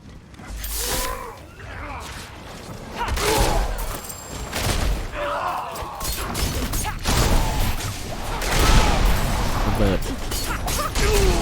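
Rapid gunfire and bursts of explosions from Diablo 4, switched from melee to a ranged shooting build, arriving in dense repeated volleys with crashing impacts and mechanical clatter, loud and continuous.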